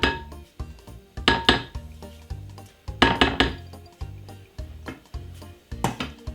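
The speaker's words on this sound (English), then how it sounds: "get a whisk and whisk it like this" A wire whisk beats sponge cake batter in a bowl, producing rhythmic clinking and scraping strokes against the bowl in quick bursts, close and moderately loud.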